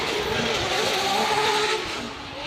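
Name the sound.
drift car engine and tires on the Wall track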